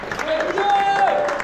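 Crowd applause at the finish of a gravel cycling event in Poitou, steady clapping and cheering from a nearby group, loud and continuous, with voices mixed in.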